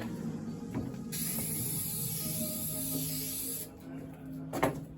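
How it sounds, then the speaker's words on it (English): Close aerosol spray of adhesive hissing steadily for a few seconds onto joints, followed by a short second burst, with faint hum and light handling noise around it. "I just spray a little bit on the joints"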